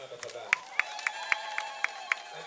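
An audience at a public gathering claps in an even, rhythmic beat, sharp hand claps spaced evenly over a soft background murmur.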